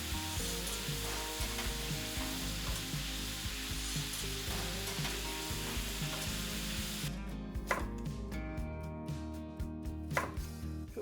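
Food sizzling in a cast iron skillet during home kitchen prep, a steady frying hiss with knocks and clatter of utensils throughout, some sharp clicks and a clearer hiss in the last few seconds.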